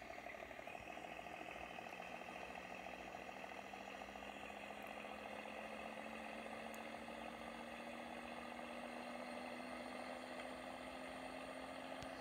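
A Peterbilt fuel tanker truck runs through the night with a steady, droning diesel engine hum that slowly climbs in pitch as it builds speed, loud and continuous from start to finish.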